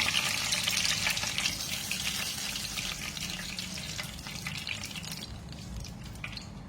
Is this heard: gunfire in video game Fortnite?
no